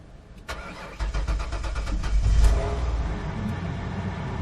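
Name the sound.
Ford Freestar 3.9L V6 engine starting and idling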